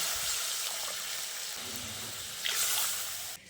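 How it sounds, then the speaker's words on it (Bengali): Water pours into a pan of spiced curry masala for an egg and potato dish, a steady broadband gush that swells briefly near the end before cutting off. "পরিমাণ মতো জল দিয়ে দিচ্ছি"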